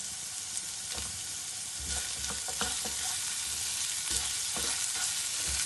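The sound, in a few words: cumin and spices frying in a pan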